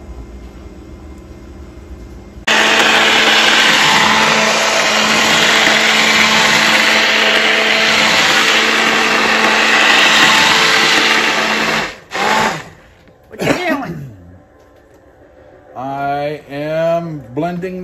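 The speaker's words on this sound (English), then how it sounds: "Blending the sauce" A blender purees tomato spaghetti sauce, whirring loudly and continuously for several seconds, then cuts out abruptly, followed by a voice speaking.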